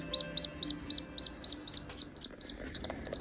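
A Mandarin duckling and pheasant chicks in a brooder give high, clear peeps, a dozen evenly spaced chirps over about three seconds, close and with no talking.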